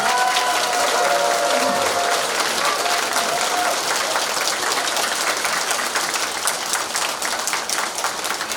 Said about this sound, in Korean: 우리 뜨거운 박수로 격려의 박수를 부탁합니다